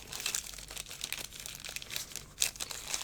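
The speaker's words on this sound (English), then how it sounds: "oh gosh, I'm just sorry about the rustling. I hope it's not really annoying." Plastic packaging around new stationery and ink cartridges crinkles and rustles close up, with irregular crackling bursts and a sharper crunch near the end.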